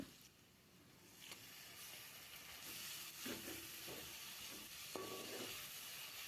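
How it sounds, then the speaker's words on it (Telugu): Curry leaves and turmeric fry in a pan with onions for a Telugu toor dal charu, giving a faint, steady sizzle and hiss with a few soft stirring knocks and no talk. "అది కొంచెం ఫ్రై అయ్యాక కరివేపాకు కొద్దిగా పసుపు కాసేపు ఫ్రై అయ్యాక"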